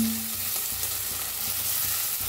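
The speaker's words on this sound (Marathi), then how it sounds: "तर मस्त भाजलाय बघा टमाटो कांदा छान भाजलेला आहे" Tomato and onion fry in a pan for an onion dal, a steady close sizzle with soft stirring scrapes running throughout, and no voices.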